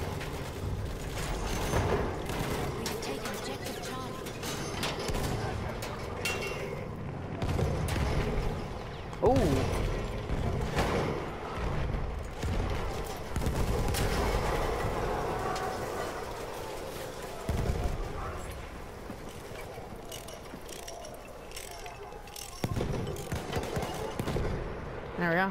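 Battlefield 1 combat around a tank on the Russian front: dense rattling gunfire and heavy mechanical rumble in a continuous, loud battle din, with bursts of shots and distant booms throughout.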